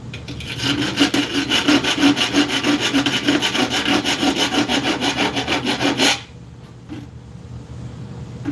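A hand file rasps in quick, regular strokes over the cut edge of a case lid, loud and close for about six seconds, then stops, leaving quiet room noise.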